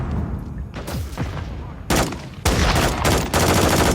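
Rapid automatic gunfire in a Call of Duty match, loud close bursts of dense shots that break off briefly and resume, with shouted voices in the background.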